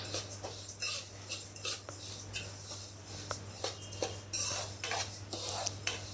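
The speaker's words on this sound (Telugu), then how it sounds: "5 మినిట్స్ ఇక్కడ నేను సిమ్లో పెట్టి వేయించుకుంటున్నాను" Sesame seeds dry-roasting in a pan over low heat, stirred steadily for several minutes with a utensil that scrapes and clinks quietly against the metal under a constant low hum.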